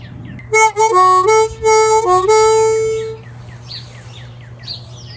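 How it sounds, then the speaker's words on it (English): Harmonica plays a 2 draw, 2 blow, 2 draw pattern, stepping between reedy held notes for about three seconds up close, then trailing off into quiet background. "another pattern of 2 draw, 2 blow, 2 draw"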